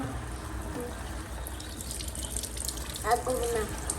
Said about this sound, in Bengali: পানিটা বন্ধ করো এখন